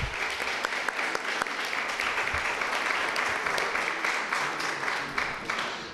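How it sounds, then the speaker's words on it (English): A crowd of adults applauds standing students at a school back-to-school kickoff held in a church, steady sustained clapping filling the room for several seconds without a break. "Grown-ups, will you applaud?"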